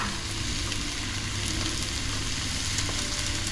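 Steady, dense sizzling of shrimp frying in hot oil in a pan, a continuous crackle with no voices.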